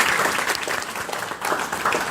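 A seated audience at a talk gives itself a round of applause, dense steady clapping that stays close and even throughout.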